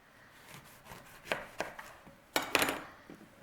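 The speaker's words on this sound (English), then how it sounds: "So we'll go ahead and cut some lemon off." A knife slices through a lemon on a cutting board while making Greek chicken pita pizza: a few soft taps, then a louder burst of quick, close cuts.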